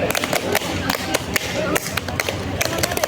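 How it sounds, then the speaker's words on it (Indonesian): Hands clap the Tepuk Segitiga scouting pattern: a rhythmic run of sharp, close claps with brief pauses between groups, over a faint background murmur. "tepuk segitiga 3 kali"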